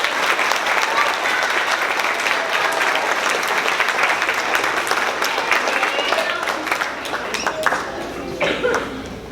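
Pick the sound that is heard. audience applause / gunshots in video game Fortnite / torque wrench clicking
audience applause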